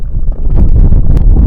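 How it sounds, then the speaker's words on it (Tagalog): Strong wind buffets a fishing boat out at sea, a loud, steady low roar with gusty rumbling throughout, no voices. "medyo malakas na yung hangin"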